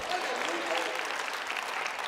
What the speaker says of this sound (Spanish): Vamos, aplauda, diga aleluya